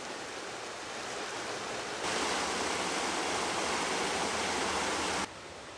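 A Scottish waterfall produces a continuous, dense rushing roar of falling water that swells louder partway through and then eases back slightly, with no talking.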